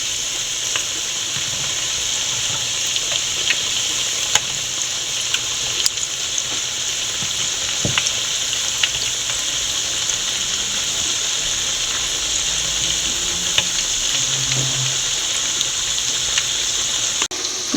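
Onion vada, a fritter of sliced onion, frying in hot oil, a continuous dense sizzle and crackle with scattered pops and light stirring clicks, close and steady throughout.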